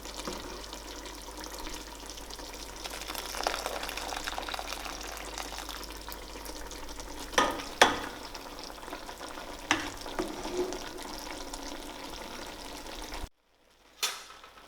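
Par-cooked rice for chicken biryani is mixed in a pot, giving a soft, steady wet stirring and faint hiss with a few sharp clinks of a spoon against the pot before a brief silence.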